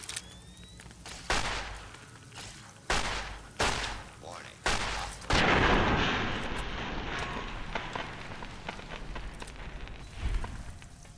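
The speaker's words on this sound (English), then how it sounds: "Explosions are happening everywhere now." Explosions in the video game Fallout: New Vegas, a series of sharp booming blasts at irregular intervals, then a long rumbling roar that slowly fades, with another burst near the end.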